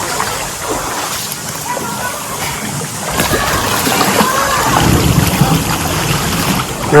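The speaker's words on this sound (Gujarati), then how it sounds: "અત્યારે જબરદસ્ત આમ જો પાણીની કોઈ સીમા નથી એટલો વરસાદ છે" Heavy rain pours over rushing floodwater during a storm, making a dense, continuous roar. Gusts of wind buffet the microphone, and the sound builds louder toward the end.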